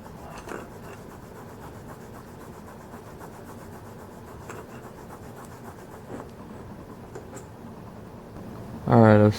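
Steady close rubbing of a cloth polishing the metal bushing of a Benchmade 810 Contego knife, a continuous soft scrubbing that runs for several seconds with small bumps and a clack at the end.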